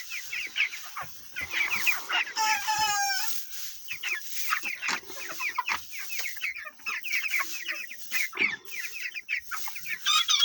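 Chickens in a broiler house cluck and chatter continuously at moderate volume, a dense flock of overlapping calls with occasional higher squawks and chirps.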